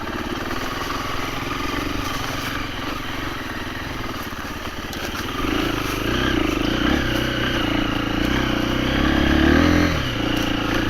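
KTM 350 EXC-F dirt bike lugging along in first gear with no throttle, a close, steady low engine drone that grows slightly fuller and rougher midway, with clattering mechanical overtones and no voices.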